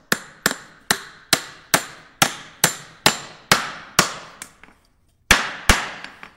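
Hammer striking nails into a 2x4 wood board, about a dozen sharp, evenly spaced blows close by, each ringing briefly, with a short pause before the last two hits.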